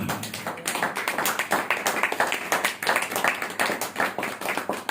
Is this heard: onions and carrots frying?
no